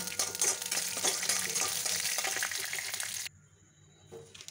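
Peanuts fry in hot oil, a dense crackling sizzle with stirring scrapes that cuts off abruptly near the end, leaving near silence with a faint clink.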